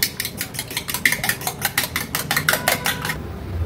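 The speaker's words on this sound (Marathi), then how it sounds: "आता जो कच्चा अंड घेतलेला तो व्यवस्थित फेटून घेऊया।" A raw egg being whisked briskly in a bowl: a quick, even run of tapping, scraping strokes, close and fairly loud, stopping just before the end.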